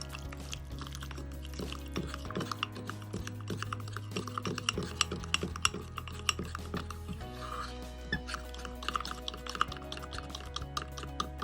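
Milkshake microwave mug cake batter stirred in a mug, a rapid run of small spoon clinks and taps against the sides continuing throughout, over a low steady hum, no talking.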